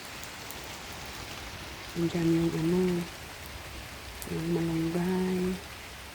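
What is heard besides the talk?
rain falling outdoors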